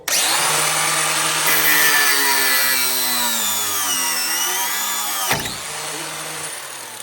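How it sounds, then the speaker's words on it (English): A stubborn car drop link with a stripped Allen head is cut by a power tool, giving a loud, continuous high whine and grinding up close with a pitch that shifts as it bites, ending in a brief clunk. "Now I would never recommend for you to cut your drop links, but this one was being too stubborn and it had to go"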